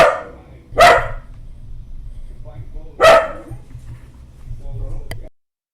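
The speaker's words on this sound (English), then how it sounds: "Muted myself so the dogs didn't bark." Dogs barking in a home, two loud sharp barks a couple of seconds apart followed by a fainter yip, heard near the microphone.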